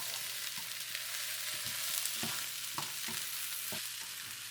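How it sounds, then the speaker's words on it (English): Green beans and shiitake mushrooms stir-fry in a pan over high heat, a steady close sizzle broken by regular scraping and tossing strokes of a utensil, with no voices. "now you can add the mushroom in it. Okay, then we turn the heat higher."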